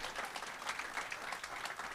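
An audience applauds at a reception for John and Gabriel Shipton, Julian Assange's father and brother: a dense, brief burst of many hands clapping together.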